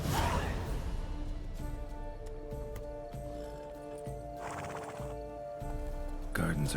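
A horse in The Witcher 3 video game clip-clops with hooves and snorts or whinnies under game music and sound effects, steady and close.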